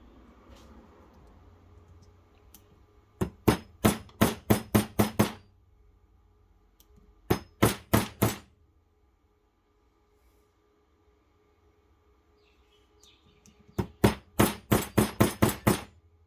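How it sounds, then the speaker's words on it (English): Three quick bursts of sharp metallic hammer taps from a small hammer straightening steering parts on an HPI Baja 5B RC car, each a rapid run of five to seven ringing strikes, separated by quiet pauses. "Start with a little hammer."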